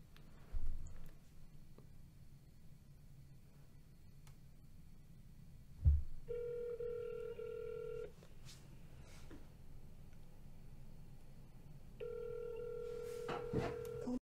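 A phone call rings out, with two long spells of a steady electronic ringback tone and a few clicks and bumps in between. The tones are clear and sit over quiet room noise.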